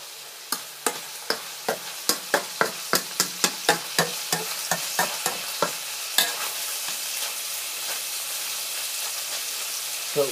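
Curry ingredients fry steadily in a home pan, a broad sizzling hiss carrying a regular series of sharp scraping clicks from stirring, about two per second, that thin out toward the end.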